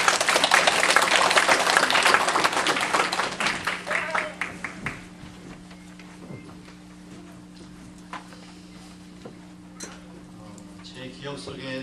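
A church congregation claps to welcome a pastor at a Christmas service, a loud burst of applause that thins out over a few seconds and gives way to quiet room tone with a faint hum.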